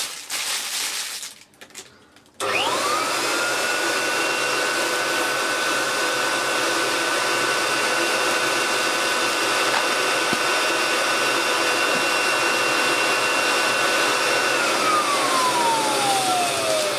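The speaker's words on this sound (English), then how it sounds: "Using the blower, see what we can do with this stupid bag." A Kirby Legend 2 vacuum run as a blower inflates a bag, a loud, steady whine with a high tone that starts abruptly after a few seconds of handling noise and runs on alone, its pitch sliding down near the end.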